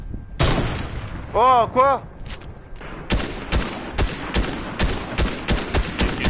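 Video game gunfire, a sharp opening shot followed by a rapid string of loud, evenly spaced cracks, with a brief alarm-like tone and a short spoken exclamation mixed in.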